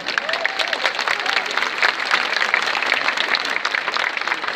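A large outdoor crowd applauds soldiers at the 105th anniversary of the Kadrówka march in Kraków, a dense, steady clatter of clapping that keeps going without a break, with faint voices mixed in.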